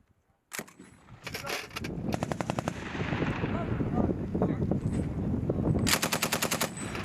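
Bursts of machine gun fire crackle during live-round warfighting training by US Marines and the Gotland Regiment, with a rapid opening burst, sustained loud rattling and another sharp volley near the end.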